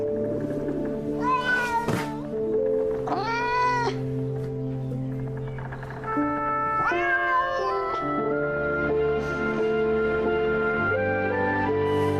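A cat meows repeatedly in a close, clear series of drawn-out, wavering calls over a long stretch, with no talking.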